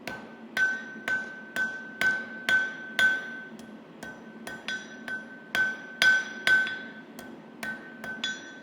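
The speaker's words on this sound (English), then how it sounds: "I'll forge in the bevel or cutting edge." A hand hammer strikes steel, forging the bevel of a Japanese scabbard chisel: about sixteen evenly spaced, ringing metallic blows at a steady rhythm, close and fairly quiet, with a short pause midway.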